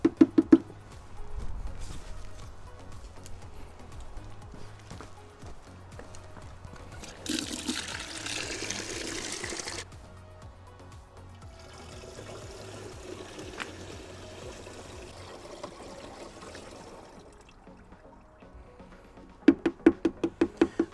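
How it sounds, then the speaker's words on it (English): Water being poured from a gallon jug into a sprayer pitcher, a steady gushing pour swelling loud for a few seconds then easing into a softer, trickling stream, with clunks of handling at the start and end. "Now I'm just gonna add another gallon of water."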